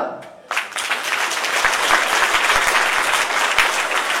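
Audience at a children's Christmas concert breaking into applause, dense continuous clapping that swells in after a quiet start and holds loud and close, with a few sharp thumps within it.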